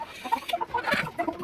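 Local chickens drinking warmed, medicated water give soft, short clucks in quick succession, close by and fairly quiet.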